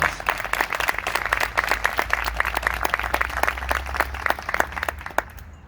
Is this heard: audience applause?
yes